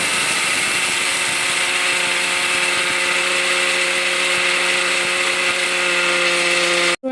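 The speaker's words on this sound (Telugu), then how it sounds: "ఇలా అన్నీ మిక్సీ జార్లో వేసుకొని మెత్తని పౌడర్ లాగా చేసుకోవాలి" A mixer grinder jar whirs loudly and steadily as lentils are ground into fine powder, a close sustained motor whine that cuts off abruptly at the end.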